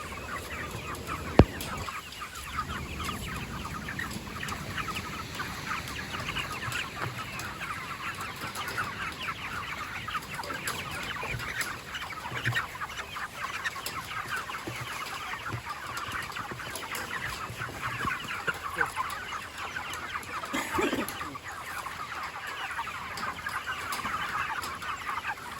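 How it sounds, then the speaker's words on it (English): About a hundred chickens in a chicken tractor on a small farm cluck and murmur steadily at a moderate distance, with no talking over the flock. "That's 100 chickens in there."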